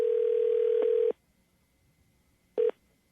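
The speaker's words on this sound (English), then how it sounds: "Jacqueline, hang on, it's ringing." A telephone ringback tone on an outgoing call: one long steady electronic tone of about a second, a pause, then the start of a second short burst, clear and alone in a quiet line.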